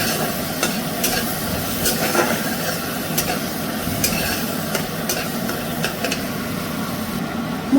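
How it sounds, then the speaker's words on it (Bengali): Spice paste with cumin powder stir-fries in hot oil for a small-fish kachki jhuro, giving a steady close sizzle with continuous scraping and stirring and a few sharper spatula scrapes throughout. "এবার এতে একটু জিরের গুঁড়ো দিয়ে দিলাম দিয়ে এবার ভালো করে কষবো"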